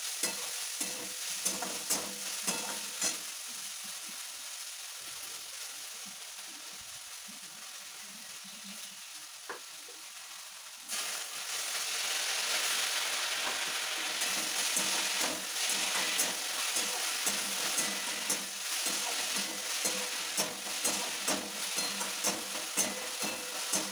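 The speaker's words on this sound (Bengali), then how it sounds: "আর আজকে সজনে শাক রান্না করছি।" Drumstick leaves (sajne shak) cook in a pan with a soft sizzle and repeated stirring scrapes; the frying grows louder and brighter about halfway through and continues steadily, close by, with no speech.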